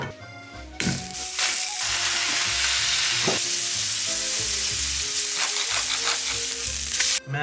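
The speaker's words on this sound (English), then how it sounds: "Nice healthy amount of butter on there. Gonna toast these over medium heat." Burger buns toasting in butter over medium heat make a loud, close, continuous sizzle, with clattering knocks as they are set down and moved around the pan.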